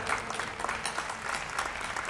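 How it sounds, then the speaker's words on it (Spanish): A crowd applauds a guest joining a memory and identity panel at a vigil, steady clapping filling the whole short stretch at moderate loudness with a faint murmur beneath. "a Manu, un fuerte aplauso."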